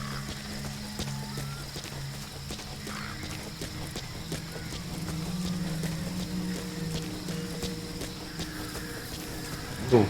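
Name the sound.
horse hooves walking, from video game Metal Gear Solid V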